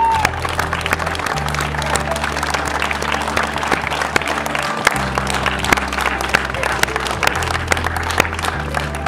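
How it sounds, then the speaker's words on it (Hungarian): Wedding guests applauding the bride in a sustained burst of clapping that runs the whole time, with some cheering and voices mixed in. "Fogadjátok hatalmas tapssal és nagy szeretettel a gyönyörű menyasszony Szani!"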